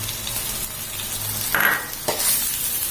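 Glass noodles and cabbage stir-frying in a pan for a vegetarian dish, a steady sizzle with a couple of brief scraping stir sounds midway and a light clink near the end.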